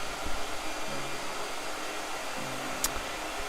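Hair dryer blowing over wet gouache paint, a steady close whoosh of air that runs continuously through the whole stretch with no talking.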